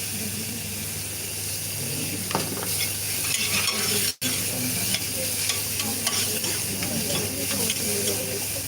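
Leeks and celery sizzle steadily in a hot pan, a constant bright frying hiss with soft stirring scrapes, briefly cut off for an instant midway before resuming.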